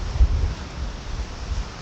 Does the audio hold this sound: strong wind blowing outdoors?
yes